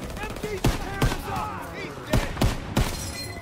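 Sharp SMG gunfire bursts from Call of Duty WW2 crack out in several separated volleys, loud and close, over a busy bed of game ambience and faint background voices.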